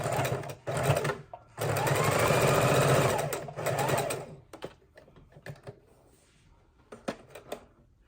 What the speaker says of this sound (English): So we're going to go ahead and do this row here and sew these together.